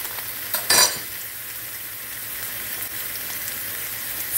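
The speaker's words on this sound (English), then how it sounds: "So we're going to throw a little butter in there." Butter sizzling in a pan for Southern home cooking, a soft steady crackling hiss throughout, with a brief brighter burst and a light utensil clink near the start.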